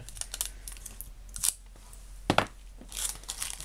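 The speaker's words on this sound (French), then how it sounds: "On va prendre un petit morceau de scotch." Sharp crackly tearing of tape in a couple of short bursts, close up, with rustling and handling noises between them.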